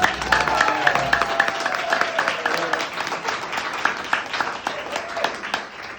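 Wedding guests applaud during a best man speech in honor of two Navy lieutenants, a moderate round of clapping with a voice speaking over part of it before the clapping tapers off.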